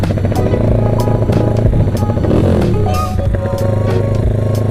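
A Honda Tiger motorcycle feeling weak and due for an engine overhaul, its engine running with a loud, steady, close throb and mechanical clatter, unbroken throughout.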